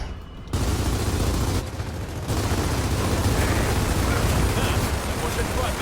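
Sustained automatic gunfire roars through nearly the whole stretch of Gears of War 4 action, loud and dense with a brief dip, while players talk over it.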